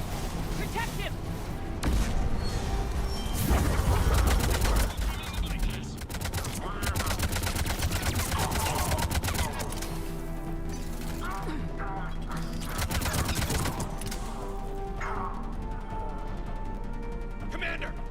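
Bursts of sci-fi weapon fire and mechanical clatter in a Mass Effect Legendary Edition firefight, dense and loud throughout with rapid volleys, while voices shout over the combat.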